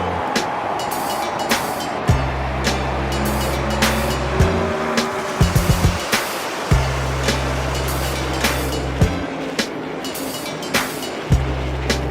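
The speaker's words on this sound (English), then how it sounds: "Driver, start your engine!" A car engine in Fort Worth, Texas, drones low and steady in several long stretches broken by short pauses, with sharp clicks and hiss on top.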